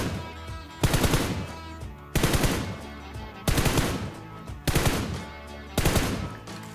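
Automatic gunfire in PUBG Mobile, five sharp bursts of rapid shots spaced about a second apart with brief quiet gaps between them, crisp and close.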